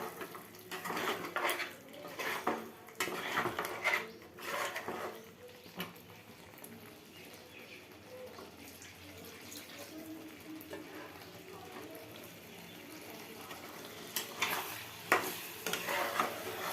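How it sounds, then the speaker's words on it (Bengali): Meat curry stirred in a cooking pot, scraping and clattering against the metal in irregular bursts, with faint sizzling underneath throughout. "আমি এখন রান্না করছি"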